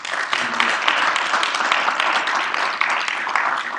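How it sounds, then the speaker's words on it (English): Audience applause at a live-streamed civic gathering, a dense sustained wash of many hands clapping at steady loudness with no voices over it. "Let's give him a round of applause."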